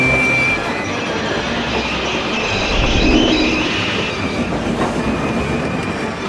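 Animated steam engines pushing hard against freight trucks as they roll along rails, a steady loud rumble of wheels with rhythmic clacking and faint squeal throughout.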